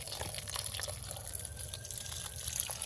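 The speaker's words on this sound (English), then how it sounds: "Okay, we're going to keep watering it a little bit." Water pours into a Gro Bucket holding a cherry tomato plant, a steady close trickle and splash that runs continuously at moderate loudness.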